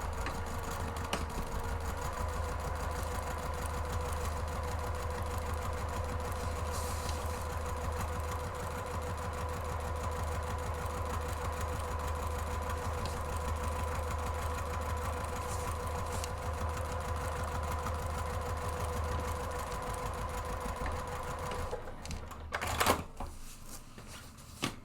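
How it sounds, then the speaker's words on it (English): A sewing machine hums steadily as it runs a long seam down the side of a fabric purse organizer panel, a constant close mechanical whir that stops with a short clatter near the end. "I'm going to run a row of stitching down the right hand side of the rear panel"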